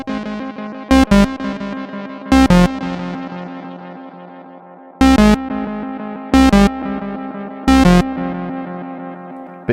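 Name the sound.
Boss Space Echo RE-202 tape echo, aged tape setting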